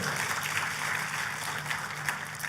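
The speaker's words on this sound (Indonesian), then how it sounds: "Tepuk tangannya yang meriah buat Tuhan kita" A church congregation applauds for God during a Sunday sermon, a dense, steady wash of clapping filling the whole stretch without a break.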